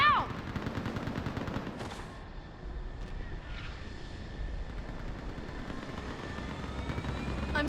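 Mass Effect 3 gunship and gunfire in a game battle: a steady dense rumble of rotors and engines with bursts of rapid fire layered throughout, loud and continuous, with brief whooshing passes.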